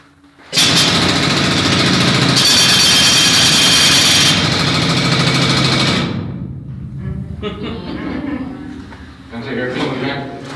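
A loud pneumatic rock drill rattles and roars for several seconds at a fraction of full power, then cuts out, leaving quieter clatter and a voice speaking nearby.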